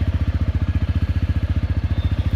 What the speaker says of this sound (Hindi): तो जैसे मैंने बाइक शुरू की है